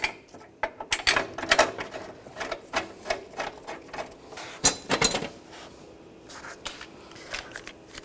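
Ratcheting on front bumper bracket bolts of a 2004-2008 Ford F-150, rapid close mechanical clicks in uneven bursts with short pauses, no voices.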